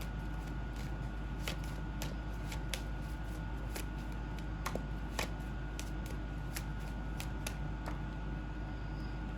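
Tarot cards being shuffled and drawn, sharp papery flicks and snaps recurring irregularly over a steady background hiss, fairly close.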